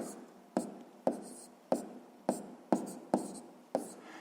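Handwriting during a sixth-grade maths exercise, a quiet series of about seven scratchy pen strokes with soft taps, evenly paced and close.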